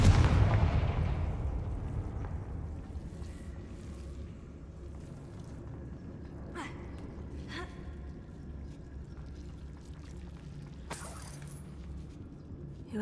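The Confringo spell goes off in the Hogwarts Legacy video game as a loud booming blast that fades into a low rumble, followed by a few faint scattered cracks and a sharp burst near the end.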